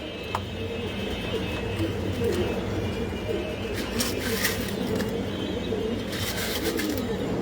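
Pigeons coo softly in low, rolling murmurs in a pigeon loft amid a busy background of rustling and faint clatter as feed bowls are taken down, with occasional brief sharp sounds.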